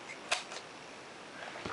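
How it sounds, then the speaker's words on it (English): A Rolleicord camera shutter is released with a single faint, sharp mechanical click, followed by softer clicks and handling noise. "Cock the shutter."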